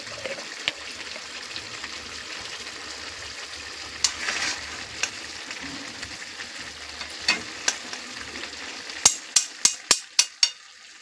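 Potato and cauliflower curry being stirred with ghee in a pan gives a soft sizzle, and a run of sharp utensil taps near the end.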